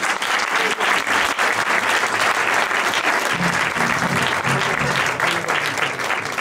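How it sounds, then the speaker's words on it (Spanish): Audience applause at a live music event, dense sustained clapping from a full room, loud and even throughout. "voy a pedir un aplauso para una persona que está dentro del público con algo entre las manos, María del Puy, por favor."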